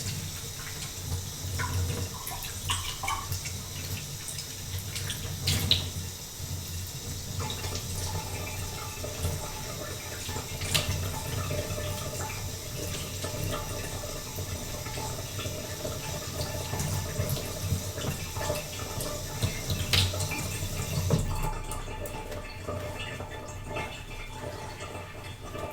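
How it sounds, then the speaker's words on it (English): A kitchen water tap runs steadily while hands are washed, a soft continuous splashing and trickling stream with small bumps of movement, heard close and fairly quiet before it cuts off near the end. "Just gonna wash my hands quick."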